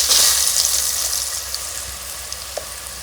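Potatoes dropped into hot oil for masala khichdi, cooked outdoors in a farm orchard: a loud, steady frying hiss that slowly eases, with a few small pops and crackles toward the end.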